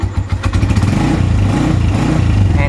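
A Honda TMX motorcycle engine runs loud and close, giving a steady rough single-cylinder throb that climbs slightly as it is revved, with no talking.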